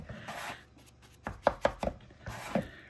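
A bowl scraper drags through pasta dough in a mixing bowl, a few quick rasping strokes and soft thuds, close and fairly quiet, with no one speaking.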